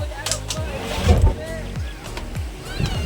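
A boat at Malpe Beach before a parasailing ride gives off a throbbing engine hum mixed with sloshing water and gusts of wind, close by. People talk over it.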